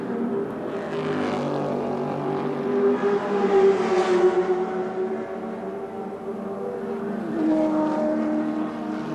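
A Camaro Group C touring car races around the Adelaide track in 1981, its V8 engine droning steadily with rising and falling revs through gentle turns, loud and continuous throughout with no talk.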